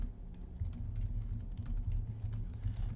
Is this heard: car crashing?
no